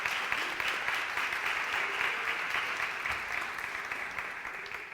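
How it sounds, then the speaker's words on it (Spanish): Warm applause from a congregation at a church event, many hands clapping together in a steady, moderately distant wash that slowly fades. "Un aplauso para Vilma."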